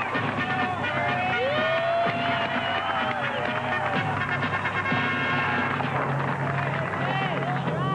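A crowd of about 40,000 spectators at the Rose Bowl in Pasadena, a continuous broad murmur with scattered cheers, heard under a narrator speaking.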